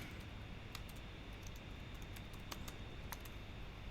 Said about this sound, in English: typing a command node index.js